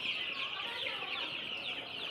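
Tiger breed chickens on a small farm cluck and chatter continuously at a moderate distance, a busy steady flock sound with no other noise.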